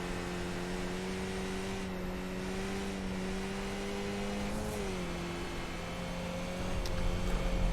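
A Skip Barber race car in iRacing drives backwards around the Dirt USA Speedway track, its engine holding a steady, fairly quiet drone with a brief dip in pitch before rising again, no talk over it.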